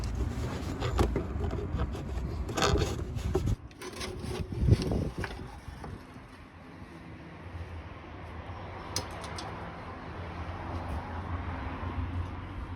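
A fuel line is pulled and rubbed through the underside of a Mercedes 190 during a repair, giving close scraping and dragging noises that fade into quieter shuffling handling.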